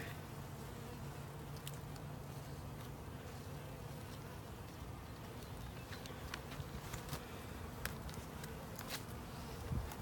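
Honey bees buzz steadily while a package of bees and their queen are installed in a hive in spring, a dense droning swarm close by with occasional sharper individual bees passing near, and no talking.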